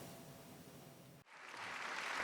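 Applause from a ceremony audience as President Obama presents Bill and Melinda Gates with the Presidential Medal of Freedom: a faint, steady wash of clapping that swells after a brief dip midway.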